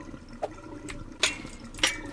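Water draining across a farm in the game DrainSim, a steady trickling wash with two louder gushing splashes breaking through near the middle and end.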